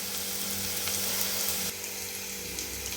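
Onions sautéing in a pan for egg kothu idly, a dense continuous frying hiss with a faint steady hum beneath, fairly quiet and close, no speech.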